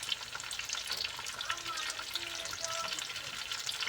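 Eggs with tomato and cheese cook in a pan with a soft, steady sizzle and crackle, fairly quiet and close, with faint stirring noises and no talk over it.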